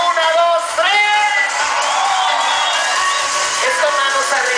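A party crowd at a disco shouts, whoops and cheers loudly and continuously, a dense mass of voices filling the space.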